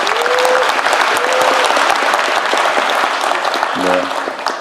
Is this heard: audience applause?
yes